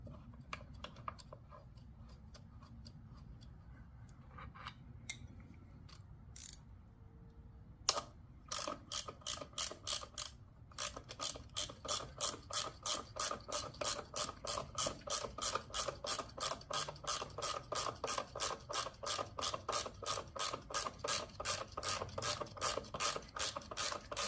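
Ratcheting box wrench turning a fastener on a Harley-Davidson primary case, close and clear: a few scattered clicks, then a long fast run of steady, evenly spaced ratchet clicks.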